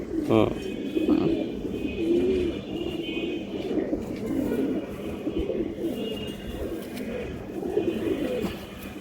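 Pigeons coo repeatedly at a pigeon sale, low throaty calls rolling on through the whole stretch, close by, with someone talking over them almost constantly.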